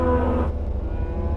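A cow lets out one loud, close moo during cattle herding on motorbikes in remote South Africa, the low call breaking off after half a second into quieter outdoor background noise.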